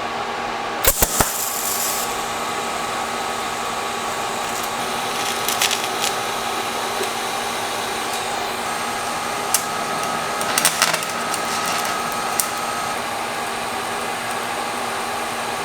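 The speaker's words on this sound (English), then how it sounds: "I started running a decent bead, and I just figured, oh, the heck with it. Let's just weld it out." Welding a bead on custom parts for a BMW E36 with an LS1 swap gives a steady, close crackling hiss that runs on without a break, with a few sharp pops near the start.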